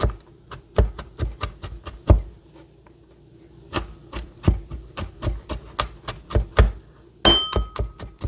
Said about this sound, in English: holding this down and just going across to finely chop it all.